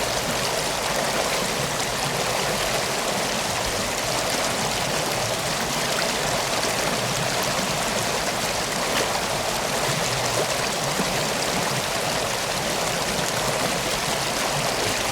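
Floodwater rushing after the Kakkayam dam shutters were opened, heard as a loud, steady roar of flowing water that continues unchanged throughout, with no voices.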